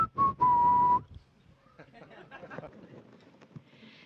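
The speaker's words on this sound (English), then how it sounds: "The whistling is just something else to have a little fun with while you try not to think about what's going on." An astronaut aboard a NASA spacecraft whistles a short, clear tune near the start, a few steady, pure notes, followed by quieter murmuring voices and faint background noise.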